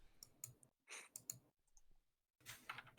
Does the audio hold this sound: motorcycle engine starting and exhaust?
no